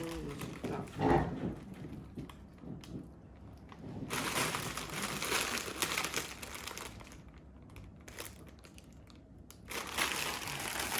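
A plastic food bank bag crinkles and rustles up close in bursts of crackling, with a voice briefly heard early on, in Halifax, Canada.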